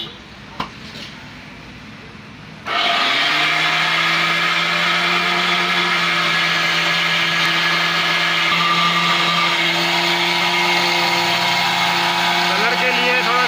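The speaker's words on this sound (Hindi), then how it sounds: "एक किलो मुकम्मल मसाला हमने ग्राइंडर में डाल दिया है।" An electric grinder whirs loudly and steadily, grinding a kilo of whole spices for salan masala; the motor starts abruptly after a quiet moment and keeps a strong, even drone to the end.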